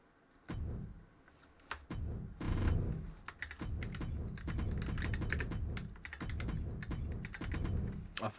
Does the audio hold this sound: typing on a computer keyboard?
yes